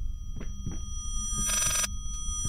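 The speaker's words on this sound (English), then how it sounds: "Is our phone ringing? Or meant to be?" An in-game telephone in the horror video game Layers of Fear gives one loud burst of bell ringing amid dull thumping footsteps and a low ambient drone.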